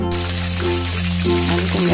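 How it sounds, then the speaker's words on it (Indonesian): Gourami fish fries in hot oil, a steady sizzle under a strong continuous hum, lasting about two seconds. "Ini kita siapkan minyak, kita goreng"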